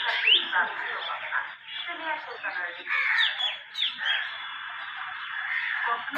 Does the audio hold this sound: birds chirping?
yes